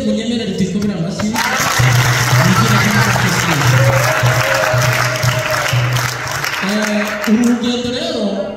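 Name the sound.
congregation applause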